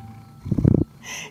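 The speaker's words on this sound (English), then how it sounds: "Now he's purring." A cat purring close by, a short burst of rapid low rumbling pulses lasting under half a second, followed by a soft hiss.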